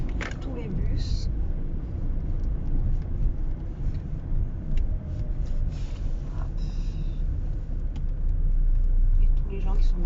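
City traffic rolls past with buses among it, a steady low rumble of engines and tyres that swells toward the end, with people talking over it.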